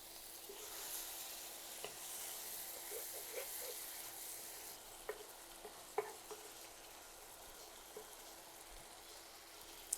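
Dried loitta fish frying in a pan as it is stirred: a faint, even sizzle with occasional soft clicks and scrapes from the utensil, no voices.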